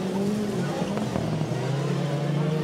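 Rallycross race cars, among them an Audi, roar past in a steady engine drone with a falling pitch, loud and close, while a commentator talks over the noise.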